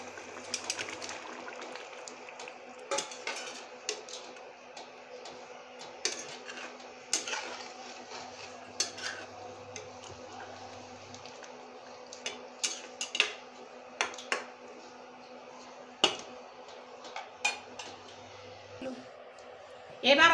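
Paneer masala simmers in a pan with faint, irregular bubbling pops and light clicks, while someone talks over it.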